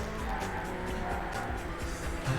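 Tires squeal and a car skids through a crash in the racing video game Burnout, a loud, dense engine-and-impact roar that stays steady throughout with no voices.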